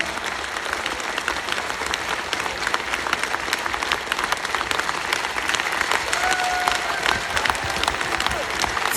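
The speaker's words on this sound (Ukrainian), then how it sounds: "повний зал людей аплодує тобі" A full concert hall audience applauds steadily throughout, dense continuous clapping at a constant, fairly loud level with no talk over it.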